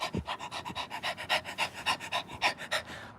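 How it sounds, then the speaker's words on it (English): A person pants like a dog as a breathing exercise in a workout session: quick, even, close breaths, roughly a dozen in a steady rhythm, with no talking. "Pant like a dog."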